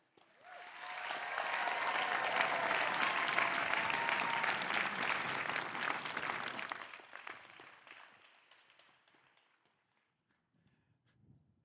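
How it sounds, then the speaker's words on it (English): Graduates at the University of Rochester 2024 commencement ceremony give their faculty a loud, sustained round of applause that swells quickly, holds steady for several seconds, then fades away into near silence. "could graduates just give a round of applause for all of your faculty?"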